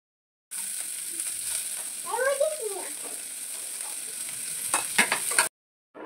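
Chopped onion, green chilli, garlic and ginger sizzling steadily in a pan of hot oil, a close, even hiss with a few stirring scrapes and clinks near the end.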